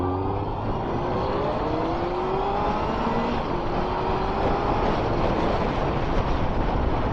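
A motorbike engine holds a steady half throttle while riding along a valley road, loud and constant, with a broadband roar and slowly rising engine tones throughout.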